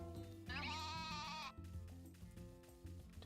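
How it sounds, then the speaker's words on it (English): A sheep bleats loudly in the farming video game Story of Seasons: A Wonderful Life, one sustained wavering cry standing out over looping game music, which carries on alone afterward. "the sheep are so loud"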